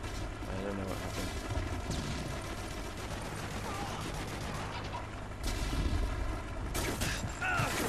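Gunfire and explosions in the Modern Warfare 3 video game during a Kill Confirmed match, a dense, continuous battle din of shots and booms at moderate loudness with no clear speech.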